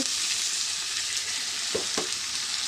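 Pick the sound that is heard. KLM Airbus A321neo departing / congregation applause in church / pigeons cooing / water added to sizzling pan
water added to sizzling pan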